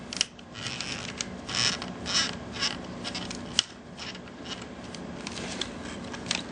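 A small screw is turned out of a PSP 2000 handheld console, giving faint, close squeaks and creaks with a single sharp click partway through.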